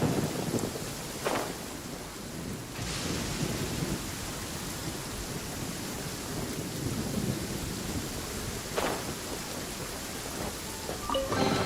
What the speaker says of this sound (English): And it's raining now.